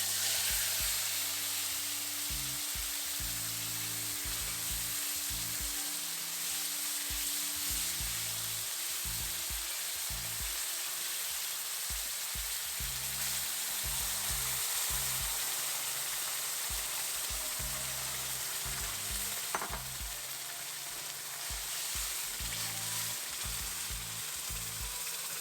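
Tomato and onion sizzle steadily in a hot pan of oil with bay leaf and cinnamon for matar paneer, a continuous frying hiss broken by the occasional scrape of stirring, close and alone.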